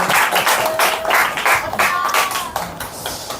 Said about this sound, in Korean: 박수로 한번 맞이하도록 하겠습니다